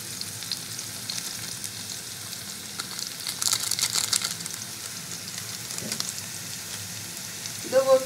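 Potatoes frying in a pan with Maggi masala, a soft steady sizzle with occasional stirring scrapes that swell briefly midway, then a few louder clanks near the end.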